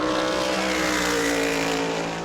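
A race car on a qualifying lap at New Smyrna Speedway roars loudly and steadily, its engine note holding at a sustained high pitch throughout with no talk over it.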